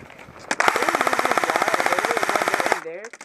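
Rapid automatic gunfire rattles close by for about two seconds as shots go through a hole in a trailer at a battlefield shooting event, and voices follow once it stops.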